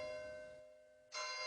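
Church bells of St. Bennet ring with sustained, humming tones that fade, then a fresh, brighter strike sounds near the end, alone without speech.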